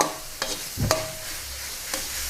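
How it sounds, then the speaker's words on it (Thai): Minced pork and sausage being stir-fried in a pan with a few spatula scrapes and knocks against the metal over a low, steady sizzle, close and fairly quiet. "ผัดให้หมูกับไส้กรอกอะค่ะ สุก"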